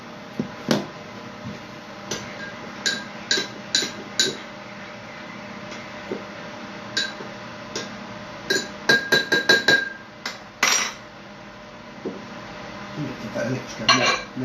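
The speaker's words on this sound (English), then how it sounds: "That needs an extra stir." A utensil knocks and clinks against a cooking pot while food is stirred during preparation of a roast salmon meal, with sharp scattered taps that bunch into a quick run of clatter, close up.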